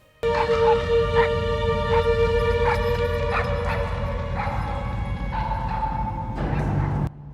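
A dog barks and yelps in the TV series Dark, a rapid run of sharp barks over a sustained tonal drone and background rumble, ending abruptly.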